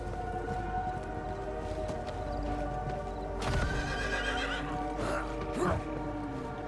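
A horse in the video game Diablo 4 whinnies loudly over a steady droning background, with hoof clip-clops and clattering mixed in.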